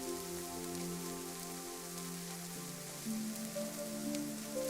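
Steady rain patters on a surface, with faint tonal hum running underneath throughout.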